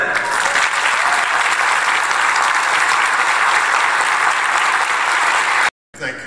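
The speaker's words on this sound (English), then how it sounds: "help me welcome, with a round of applause, a man who will never forget," An audience at a Martin Luther King Unity Breakfast gives loud, dense applause to welcome the keynote speaker, the clapping close and continuous for nearly six seconds before cutting off abruptly.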